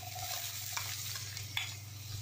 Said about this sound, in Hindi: अब हम इसमें डालेंगे प्याज आधा कटोरी।